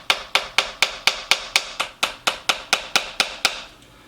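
Drumsticks on a practice pad play roughly fourteen sharp, close taps at a steady pace, the strokes building gradually in volume before the sequence stops.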